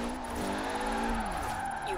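Car engine in Forza Horizon 4 while drifting, a steady, sustained drone with the pitch slowly shifting as the revs rise and fall, continuous and fairly close.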